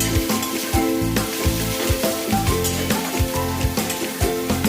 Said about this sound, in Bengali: ভালো করে একটু পেঁয়াজের সাথে ভেজে নেব।